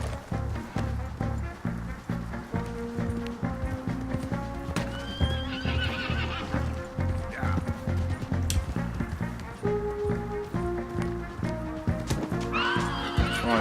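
Horses whinny and neigh repeatedly over busy galloping hoofbeats and commotion in the video game Red Dead Redemption 2, loud and continuous throughout.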